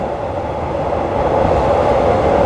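Steady, loud rumble of an elevated train running from Don Mueang toward Krung Thep Aphiwat station in Bangkok, a continuous interior drone with no voices.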